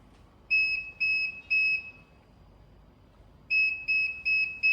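Several short electronic beeps from a car's aftermarket power tailgate in a quick, even rhythm, then a pause, then another run of beeps. Loud, close and alone.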